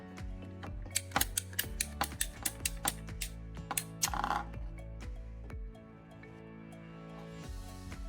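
A pipe cutter ratchets around PVC pipe for a knife handle, a close series of sharp clicking turns that speed up then stop, over quiet background music.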